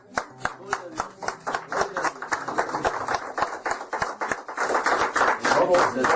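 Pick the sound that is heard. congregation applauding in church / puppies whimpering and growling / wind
congregation applauding in church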